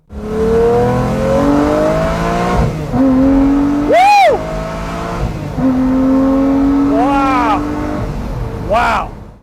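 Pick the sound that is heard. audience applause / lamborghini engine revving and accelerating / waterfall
lamborghini engine revving and accelerating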